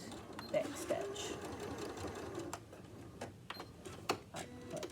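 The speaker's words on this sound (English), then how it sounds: "I'm going to sew right to the edge here, and back stitch." A sewing machine stitches a tote bag right to the edge and back-stitches, with a steady fast mechanical whirr and needle ticking, plus sharp clicks and a voice talking briefly.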